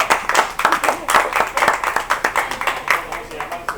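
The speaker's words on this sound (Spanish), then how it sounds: "Vamos a dar un aplauso a la pastora." A church congregation claps for the pastor, with crisp, fairly rhythmic hand claps close by and voices mixed in over them.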